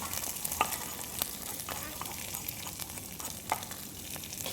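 Onions and potatoes fry in a pan with a steady sizzling hiss while a spoon stirs them, scraping and clicking against the metal several times. No one speaks.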